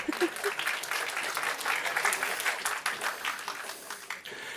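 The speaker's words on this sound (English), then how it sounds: "Isn't that great? An applause." A conference audience at a programming talk breaks into applause, scattered and moderately loud, with a speaker's voice briefly audible over the clapping.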